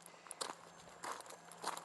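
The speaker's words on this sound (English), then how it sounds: "the sound of those crunching footsteps sounds like the opening of a true crime" Crunching footsteps, three or four distinct steps at an unhurried pace, fairly close and quiet against a faint steady hum, with no talking.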